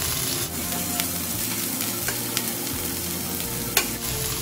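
Carrots being stirred and fried in a pan for vermicelli upma, with a steady close sizzle and scraping stir strokes throughout and no talking.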